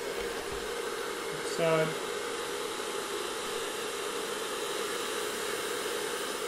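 A hair dryer blows a steady, broadband whoosh down over a beard to straighten it, running continuously throughout with a brief spoken word and a short bump of handling noise early on.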